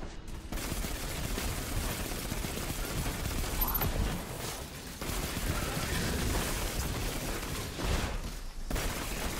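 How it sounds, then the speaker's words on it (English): Grenade blasts and gunfire during a Destiny 2 raid, a dense run of sharp bursts and rattling fire layered together, fairly loud and continuous with brief lulls. "these fucking grenades, man"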